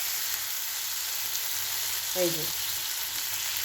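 Spiced masala paste, already cooked down, sizzles and crackles steadily in hot oil in a pan, with a brief spoken word partway through.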